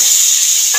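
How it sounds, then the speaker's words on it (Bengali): Spice masala with chopped tomato is sautéed in a pan, giving a short burst of bright sizzle and a faint scrape of stirring near the end, with no talking. "মশলাটা কষানো প্রায় হয়েই এসছে"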